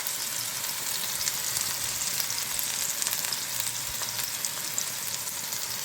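Onion paste fries in a pan of oil for chicken balls in gravy, giving a steady, dense sizzle that holds at an even level throughout, with no voices.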